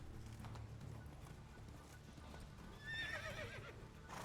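Roach the horse in The Witcher 3 whinnies loudly near the end over a steady low rumble of hooves and ambient game noise, the neigh rising and wavering for about a second.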